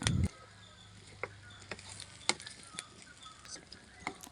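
Bilimbi pickle is stirred in a pan, a spoon giving sparse, soft taps and scrapes against the metal, faint and intermittent in a quiet room.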